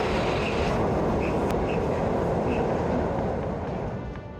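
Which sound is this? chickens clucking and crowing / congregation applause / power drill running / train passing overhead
train passing overhead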